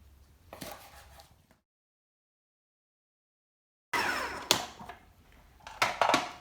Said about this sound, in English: So I'll just continue chopping, and then we'll finish off and put everything in the pot.